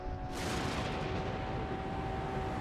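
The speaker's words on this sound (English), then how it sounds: "Thunder and lightning still all around." Thunder in a sim racing game at Kyalami, a sudden loud boom that rolls out into a sustained rumble over constant engine drone, no talking.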